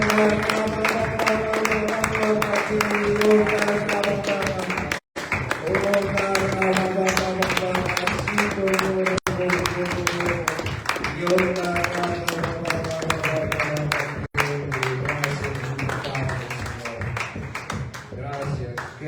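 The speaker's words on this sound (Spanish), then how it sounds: "Dale un fuerte aplauso a Cristo" A church congregation at a Sunday evening service claps steadily and loudly for a long stretch, a dense rhythmic applause with a singing or chanting voice carrying over it and a few brief breaks.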